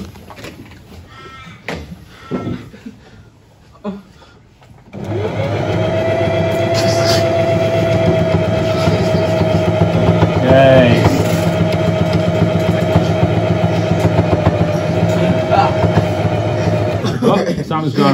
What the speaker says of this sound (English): this is a heavy duty sewing machine, so it can handle it